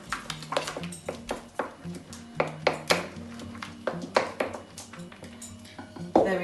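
Double cream and other ingredients are mixed in a bowl, giving a steady run of close scraping and knocking strokes in a regular rhythm, with no talking.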